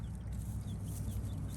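Chickens clucking softly in a barn, faint and somewhat distant over a low rumbling background hum, with no voices.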